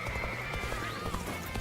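Video game horse galloping with rapid clip-clop hoofbeats and a neigh, busy and layered with game music and effects, fairly quiet overall.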